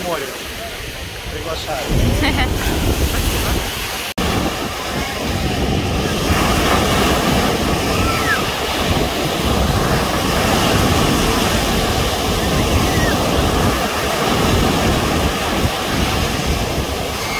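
Rough, stormy sea waves crash on a Golden Sands beach in Bulgaria, a broad continuous roar with wind buffeting the microphone, while people talk faintly underneath.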